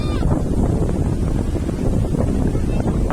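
Steady wind buffets the microphone at a hillside farm house in a Gujarat village, making a loud, continuous low rumble that never lets up.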